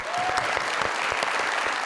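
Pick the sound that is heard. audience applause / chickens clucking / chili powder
audience applause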